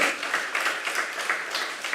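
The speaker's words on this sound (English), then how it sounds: "Please give him a round of applause" An audience at an awards ceremony applauds continuously, many hands clapping in a dense, steady patter that fills the room.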